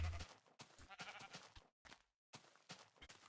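Minecraft sheep bleat as a game sound effect, in several short, loud, close calls separated by brief pauses, with no one talking over them.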